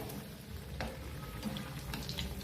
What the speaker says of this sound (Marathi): आता ही वरची साईड आपल्याला छान तळून घ्यायची